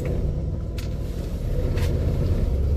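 A warmed-up Chevrolet Cavalier with a dashboard shifter sits idling, its engine a steady, close low rumble that holds even throughout, with no voices over it.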